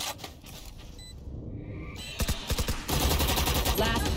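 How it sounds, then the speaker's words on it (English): Rapid bursts of automatic gunfire in the video game Valorant, with a short volley followed by a longer sustained stream of shots, loud and close. "No way he's shooting you through walls."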